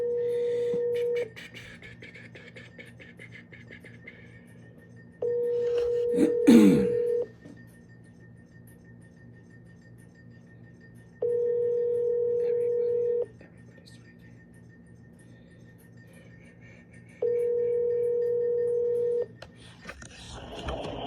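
An outgoing phone call rings on a mobile during a solar sales calling session, with four evenly spaced ringback tones of about two seconds each, separated by quiet gaps, clear and close.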